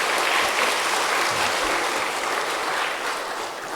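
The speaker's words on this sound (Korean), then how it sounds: "다시 한번 귀한 말씀 전해주신 목사님께 큰 박수 부탁드립니다." Audience applause for a pastor at a hospital chapel service, a dense, steady wash of many hands clapping that fills the clip and eases off slightly toward the end.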